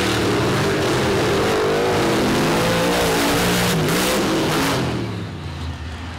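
A race truck engine roars loud and close off the starting line at a Tuff Trax off-road race, a sustained revving drone that rises and holds before easing slightly near the end.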